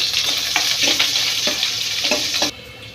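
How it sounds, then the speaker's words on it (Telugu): Thinly sliced medium onion fries in a pan for a fenugreek egg masala, a steady broadband sizzle with intermittent scraping stir strokes, close and continuous until it drops abruptly near the end. "మీడియం సైజు ఉల్లిగడ్డ సన్నంగా కట్ చేసుకున్నాను ఇందులో వేసేసుకున్నాం"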